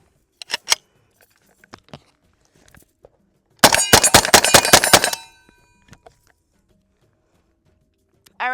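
A rapid burst of about a dozen sharp, loud shots from a Draco pistol loaded with an aftermarket Glock magazine, preceded by a couple of isolated clicks and metallic handling sounds, with quiet gaps around the string of fire.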